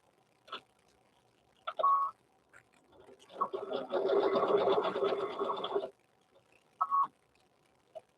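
A sewing machine stitches fabric for a handmade stuffed bear, with a couple of short whirring bursts and one longer steady run of stitching, close and fairly quiet, separated by pauses.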